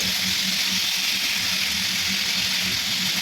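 Spices with salt, turmeric and sugar sizzle steadily in a frying pan being stirred, a close, even hiss with no pauses.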